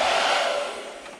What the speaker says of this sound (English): I've got my hairdryer